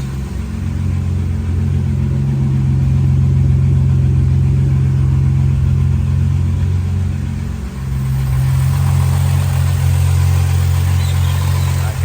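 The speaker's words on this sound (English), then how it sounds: "Certainly hear a knock." Idling skid car engine, neglected and still running rough with a knock and rattle, thrumming steadily and loud under an exhaust drone, with a slight dip near the end before settling back.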